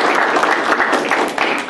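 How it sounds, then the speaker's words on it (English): Round of applause from an audience at a California Native Plant Society conservation talk about Santa Clara Valley members, dense steady clapping throughout, loud and close. "possibly a round of applause for the CNPS members in Santa Clara Valley"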